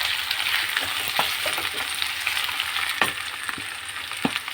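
Steady, loud sizzling of liver and onions with hot pepper and chopped tomato frying in a pan, with occasional crackles and pops and a few light clinks of stirring.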